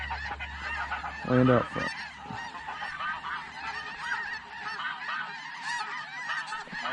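A flock of snow geese honks continuously during a hunt, many overlapping calls near and far, with a louder burst early on and a person speaking briefly over the birds.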